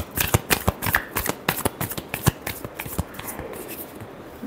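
A deck of tarot cards shuffled by hand: a quick run of crisp, closely spaced riffling flicks, near and fairly loud, tapering off into quiet at the end, with no voice over it.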